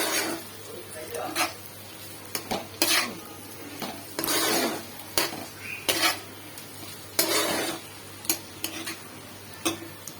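Bitter gourd (karela) frying in a pan with a generous handful of coriander leaves, stirred and scraped with a utensil in irregular bursts over a low sizzle, close by, while a person talks in between.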